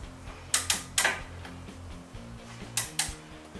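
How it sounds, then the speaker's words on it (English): A torque wrench tightens a bolt on a 2-inch lift kit, set to 88 foot-pounds, giving several sharp metallic clicks in two clusters, close and fairly quiet, against a low rumbling background. "this torque and tighten until you hear that click for 88 foot-pounds."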